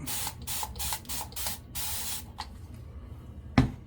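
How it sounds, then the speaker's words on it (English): Water sprays in a series of short hissing bursts to wet one side of a surface in a cold winter setting, each burst up close and loud, then quieter stretches with a sharp knock near the end. "let's get this side wet."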